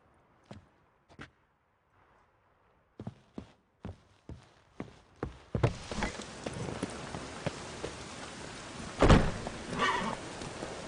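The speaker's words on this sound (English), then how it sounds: "And it's raining again." Scattered footsteps or horse hoof thuds at first, then steady rain patter rising and continuing, with a sharp knock partway through, in the video game The Witcher 3: Wild Hunt.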